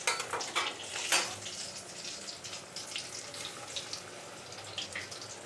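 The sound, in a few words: bread snacks deep-frying in oil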